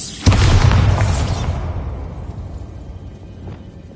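A single loud Bombarda spell blast in a wizarding game explored inside an old closed mine, a sharp boom that bursts suddenly and then rumbles and fades over a few seconds.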